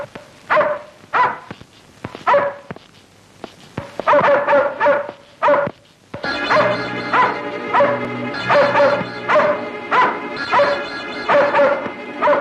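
A dog barks repeatedly in short sharp yips and bow-wows, close and loud, first in separated bursts and then more rapidly over sustained music in an old Malayalam film scene.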